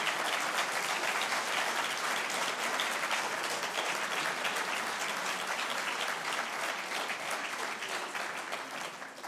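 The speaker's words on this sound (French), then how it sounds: "Je pense que vous pouvez les applaudir." A meeting audience applauds a team with a sustained, even patter of many hands from a moderate distance, keeping up a steady level before easing off slightly at the close.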